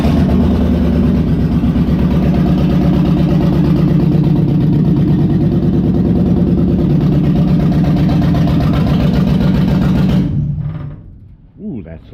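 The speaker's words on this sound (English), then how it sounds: "got it wired up, and it now will start and idle" A 1969 Chevy C10 engine runs loud and close at a lumpy, throbbing idle, its steady rumble continuing for about ten seconds before being shut off abruptly and falling quiet.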